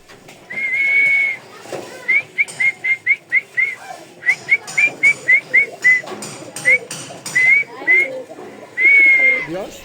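Racing pigeons in a loft give a run of short, clear whistling chirps in a quick uneven rhythm, framed by longer sustained whistle notes at the start and end, fairly loud and close with no talk.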